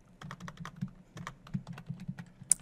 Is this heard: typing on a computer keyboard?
yes